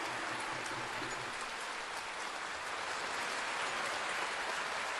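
Sustained applause from an audience at a Jharkhand state government event, a dense steady patter of many hands clapping throughout, with no talk over it.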